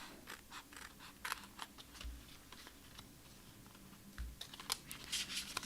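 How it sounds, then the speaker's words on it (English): Scissors trim the overhanging edge of paper on a Halloween craft, giving a run of quiet, quick snipping and crisp ticking cuts, close and steady with no voices. "you can also trim off if you have any overhang, like I do here too. Just trim it off."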